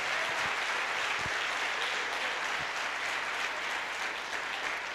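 A church congregation applauding during a worship service, a dense, steady wash of clapping that holds loud and even throughout with no voices on top.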